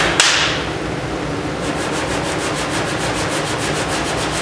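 A Camaro door panel is block-sanded by hand with coarse grit paper, giving a continuous scratchy rasp. Quick, even back-and-forth strokes repeat steadily throughout, close up and with no talking.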